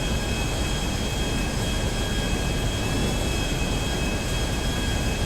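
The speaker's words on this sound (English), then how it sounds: "This jet can pick up incredible amounts of speed and has high acceleration to boot." A Western Bezra jet in the Grand Theft Auto video game roars steadily and loudly throughout, a dense, unbroken engine rush with high whining tones and no talk.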